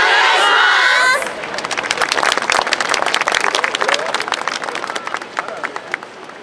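Festival crowd at the Hamamatsu Ganko Matsuri clapping and cheering for a dance team, a dense burst of rhythmic, close applause with shouts that swells and then gradually thins out.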